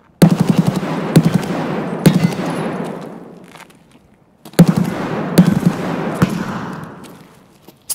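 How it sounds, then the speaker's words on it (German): Gunfire from the video game Escape from Tarkov comes in two loud, booming volleys of rapid shots, each trailing off into a long echoing decay, with no talk heard. "Hast du durch die Wand geschossen?"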